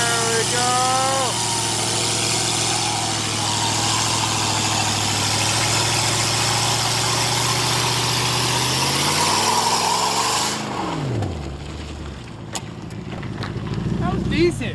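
A 2002 Lexus V8 car revs hard through a burnout, its loud, steady engine roar held with rising whine for about ten seconds before cutting off, followed by a quieter idle and scattered clatter.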